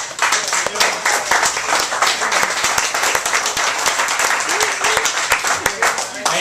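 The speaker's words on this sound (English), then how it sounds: "I know that applause was for the school teachers" A crowd applauds steadily, dense clapping that stays loud and even throughout with no pauses.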